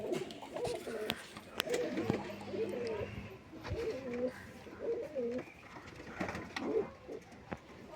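Madas pigeons, including a red one, coo repeatedly at close range, a series of low rolling calls in loose bursts, with faint voices and small clicks around them.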